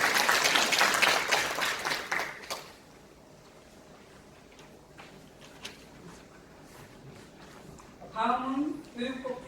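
A burst of applause from the crowd at a Hwaseong citizens' regional meeting in the Dongtan 2 area fills the first couple of seconds, then fades into a quiet room before a voice speaks near the end.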